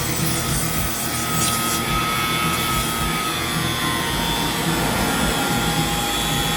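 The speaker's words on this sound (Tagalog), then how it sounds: "Bigyan natin siya ng 10 minutes na vacuum bago natin siya kargahan" A vacuum pump runs steadily while evacuating a refrigerator system being converted from R600a to R134a, a loud continuous whirring drone with a constant pitch and no talk.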